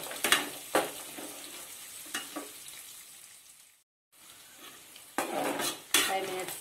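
Cashews, peanuts, chana dal, onion and chilli frying as a tempering for egg fried rice, with stirring scrapes and sizzle in bursts, a short silent gap midway, then louder clattering stirs near the end.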